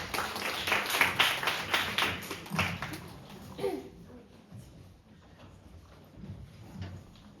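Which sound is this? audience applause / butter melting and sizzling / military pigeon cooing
audience applause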